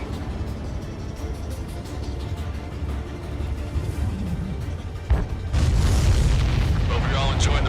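Explosions in the flight combat video game Ace Combat 7, a rumbling low boom under game engine drone, with a sharp burst near the end that swells into a louder, sustained roaring blast.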